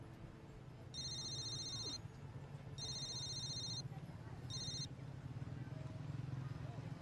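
A telephone bell rings in three repeated bursts over a low steady background hum, fairly clear against the room noise.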